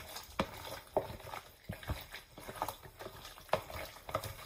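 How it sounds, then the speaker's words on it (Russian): Chicken nugget mixture stirred in a bowl, a soft wet squelching and scraping that rises and falls in a steady close rhythm, fairly quiet. "Mix well."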